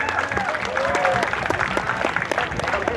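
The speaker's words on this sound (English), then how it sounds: "So that's what we call applause for Johnson." Crowd at a pizza eating contest in Pune applauding the winner, short bursts of clapping and cheering mixed with voices and a brief whistle-like call.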